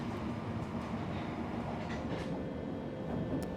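Older Berlin U-Bahn F79 subway train with dark wood-style interior running along the line, a steady low rumble of wheels and car body heard from inside with faint rattles and occasional squeaks.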